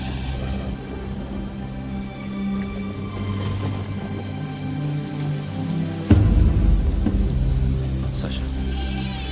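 Steady rain falls in a film scene, a dense hiss over low rumbling, swelling louder around the middle of the clip, with no voices.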